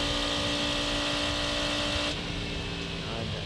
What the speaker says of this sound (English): Sound of the Cadillac motor up on the high banking.